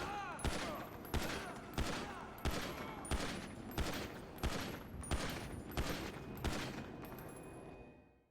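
A combat pistol fires in Grand Theft Auto V, with about nine sharp, evenly spaced shots in a steady rhythm, each followed by a ringing tail, loud and close.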